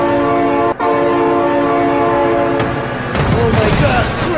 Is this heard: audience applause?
no